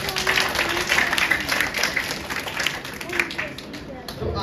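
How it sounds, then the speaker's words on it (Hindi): Children at a summer camp session clap for themselves, a steady wash of crowd applause that continues for several seconds at moderate loudness. "तो सभी अपने लिए ताली बजाओ।"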